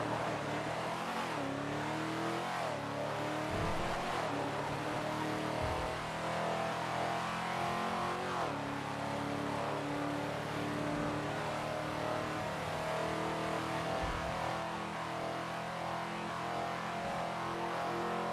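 The engine of a Bullet sports car in GTA V drones and revs in a game. The tone rises and falls with throttle changes and shifts over a long, steady stretch of driving, with no voices over it.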